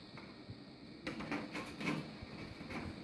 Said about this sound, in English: Now I'm going to actually remove the sides.